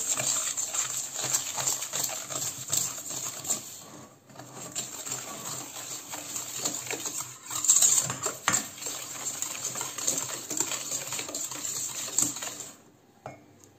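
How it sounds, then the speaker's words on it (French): Eggs and sugar whisked together in a mixing bowl for a marble cake batter, making steady clinking and scraping of utensil against the bowl, close and continuous with brief pauses. "Alors, on va mettre les œufs. Ensuite, le sucre. Et je commence à mélanger."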